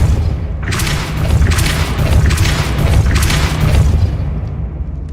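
Magic spell effects from the video game Hogwarts Legacy: a run of loud, booming bursts and thuds over a rumbling low bed, several impacts spaced about a second apart, with no talking.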